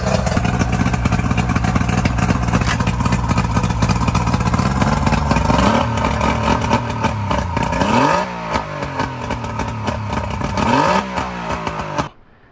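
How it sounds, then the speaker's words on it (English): Old bass boat outboard motor running steadily right after a carburetor cleaning, a loud, rough, clattering idle that rises and falls as it is revved near the end before cutting off. "my dad cleaned the carb out and it fires right up"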